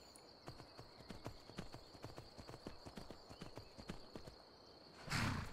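Horse hooves clip-clopping in Skyrim Special Edition, a steady rhythmic trot of sharp hoof strikes that stays even and close, broken at the end by a louder burst of sound.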